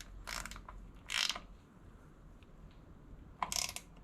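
A ratchet clicks in short bursts while tightening the differential plug on a Suzuki Carry DC51T 2WD, three quick close ratcheting runs separated by pauses.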